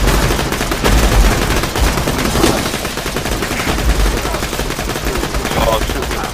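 Rapid, continuous gunfire from the video game Borderlands 2 crackles densely throughout, with sustained bursts layered over game action and faint voices underneath.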